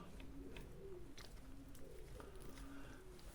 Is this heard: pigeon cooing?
yes